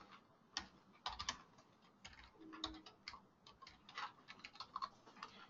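Quiet, irregular clicking of keys on a computer keyboard, close and soft, in short bursts with brief pauses and no talking.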